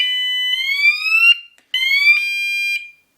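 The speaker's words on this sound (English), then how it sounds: "But yeah, it's got a bike alarm." Ravemen NT101 rear bike light's anti-theft alarm shrieks loudly in two rising electronic siren bursts split by a short gap, with no talk over it.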